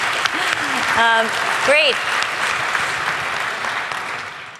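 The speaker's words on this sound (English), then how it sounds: "we can clap for you." An audience applauds a speaker at a talk on a new code for AI. A steady wash of clapping fills the room and slowly fades, with a short spoken word heard over it.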